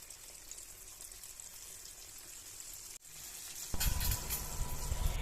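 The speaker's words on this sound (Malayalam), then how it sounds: "തിളച്ച എണ്ണയിൽ ഓരോ തവി ഒഴിച്ച് തിരിച്ചു മറിച്ച് വിട്ട് നമുക്ക് മുരിച്ചെടുക്കാം" Neyyappam batter fries in boiling oil as a steady hiss with crackles. A sharp break comes near the three-second mark, then a sudden louder, fuller sizzle rushes up as more batter hits the oil. The sound is close and continuous, with no talking.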